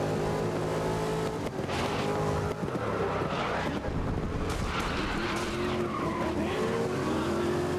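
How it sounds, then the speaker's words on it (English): Tires screech in a sustained skid after a handbrake pull in the racing game GRID (2019), loud and continuous over a roaring race car engine, with no pauses. "to go very long on a corner and I instinctively press the handbrake."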